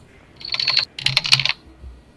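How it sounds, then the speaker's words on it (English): Computer keyboard clacking in two quick bursts of rapid keystrokes, crisp and fairly close, picked up through a livestream call with no talk over it. "I hear him clacking on the keyboard"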